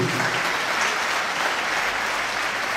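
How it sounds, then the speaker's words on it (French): Audience applauding at a high school music event in a sports hall, a dense, steady wash of clapping from a large crowd that holds at an even level throughout with no voices over it. "J'aimerais qu'on applaudisse très fort"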